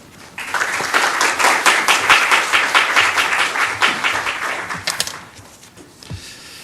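A church congregation at a staff worship service applauds to welcome a pastor: several seconds of dense, steady clapping from many hands that swells, holds, then thins into a few last claps.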